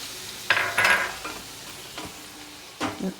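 Chopped onions sizzle in hot oil seasoned with asafoetida, with a few brisk stirring scrapes in a pan and a steady frying hiss between them.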